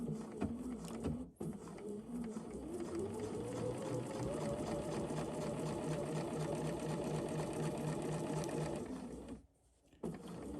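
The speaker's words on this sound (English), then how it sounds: "And then we're just going to do a straight stitch." A sewing machine runs a straight stitch on a sew-along garment project, a close, steady whirring hum with rapid needle chatter that keeps going for about eight seconds, with brief pauses near the start and end.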